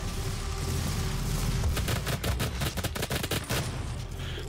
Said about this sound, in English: my one shot, one kill thing with the Gauss cannons